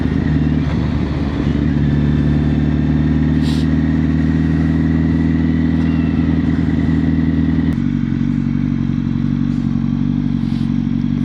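A Yamaha XT600 motorcycle riding over a cracked, broken road in cold weather, its engine droning steadily and loud close up, with a gear or throttle change partway through and occasional rattles from the rough surface.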